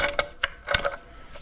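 Ratchet wrench snugging a cylinder head bolt on a GMC Canyon 3.5 engine, giving a few short, close metallic clicks spaced unevenly over a second and a half, with no talking.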